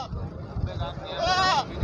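A goat bleats in one long, wavering cry at a busy Sunday livestock market, rising above a constant crowd murmur and talking.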